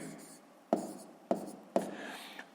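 Handwriting on paper while working a sixth-grade math exercise, with three sharp taps of the pen among soft scratchy strokes, close and quiet, with a low voice murmuring faintly in the background.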